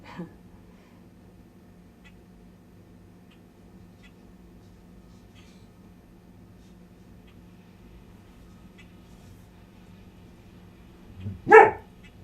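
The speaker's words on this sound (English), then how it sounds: "I gotta see what my dog's barking." A house dog gives a single sharp bark near the end of a long, quiet stretch, with faint low room hum beforehand.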